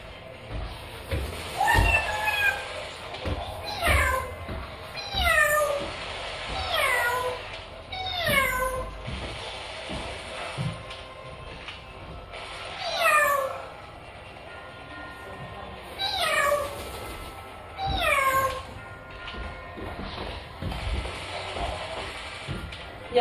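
A pet parrot imitating a cat, giving repeated meows every couple of seconds, loud and close, with a steady background hum and no talk.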